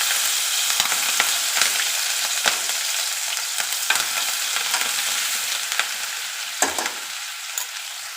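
Ginger, green chillies and garlic sizzle steadily in hot oil with cumin, asafoetida and turmeric for Punjabi chole, a close, continuous crackling hiss with scattered sharp pops and occasional stirring clicks.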